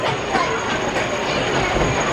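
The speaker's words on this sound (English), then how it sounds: "Oh, it's a nice family wooden coaster, that, the Woodstock Express down here." Wooden family roller coaster train, the Woodstock Express at Carowinds, rumbling steadily along its track with a continuous clattering roar, near and loud throughout with no break.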